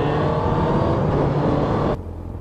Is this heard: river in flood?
no